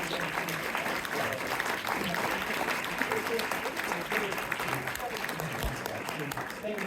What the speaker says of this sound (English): We'll give them a round of applause for participating in tonight's